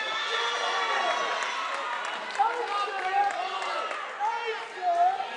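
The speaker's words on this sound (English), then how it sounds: "We hear the crowd now. We hear a lot from this crowd." A college volleyball crowd at a Paine College versus Benedict College match cheers and shouts steadily, with many overlapping voices and several louder swells of yelling throughout, and a few claps mixed in.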